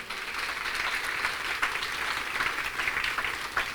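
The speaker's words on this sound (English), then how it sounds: "Let's give them a wonderful round of applause." An audience at an evening Yagna devotion in Mayaro applauds, sustained dense clapping that holds steady and fairly loud for several seconds with no voices over it.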